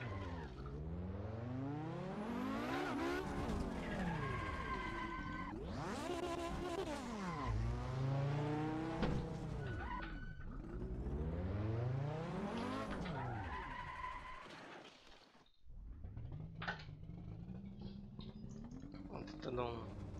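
Racing cars roar past in rapid succession, engines sweeping up and down in pitch with repeated Doppler passes and brief tyre squeals, loud and close, while people talk excitedly over them.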